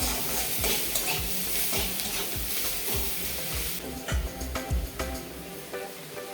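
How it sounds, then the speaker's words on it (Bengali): Onions with green chillies, salt and turmeric frying and being stirred in a home kitchen pan, a steady sizzle broken by regular scraping strokes of a spatula, close and continuous with no talk. "পেঁয়াজটাকে একটু ভাজা ভাজা করে নেব।"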